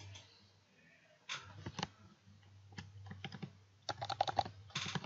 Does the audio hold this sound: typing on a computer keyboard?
yes